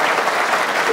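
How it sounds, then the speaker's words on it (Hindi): A group of children clap together in a short, steady burst of applause, close and fairly loud with no pauses. "ताली बच्चों आपने 2 दफा और बजा दी"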